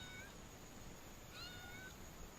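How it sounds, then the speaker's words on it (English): A kitten rescued near a fishermen's boat on a river gives a faint, thin meow, one brief call rising out of steady low background noise. "I just seen a kitten jump on the ground."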